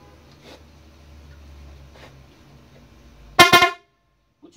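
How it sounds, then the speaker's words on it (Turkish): A restored vehicle horn with thin and thick tones gives one loud, brief honk near the end, preceded by faint handling noises and quiet background. "Bu çalan ince tonlu arkadaşlar."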